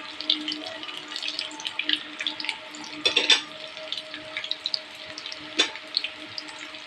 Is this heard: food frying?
yes